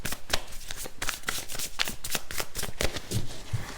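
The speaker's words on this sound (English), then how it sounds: "I want to shuffle it once." Tarot cards riffle and slap together in a fast, continuous shuffle, crisp and close with rapid papery bursts throughout.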